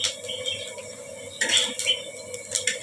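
A metal utensil scrapes and clinks against a hot frying pan as food is spread and pulled apart, giving a rhythm of close, bright taps and scrapes.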